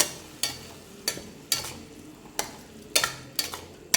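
A spoon scrapes around a pan of frying onions with salt and a sprig of curry leaves, giving sharp, evenly spaced metallic strokes about twice a second over a soft, steady sizzle.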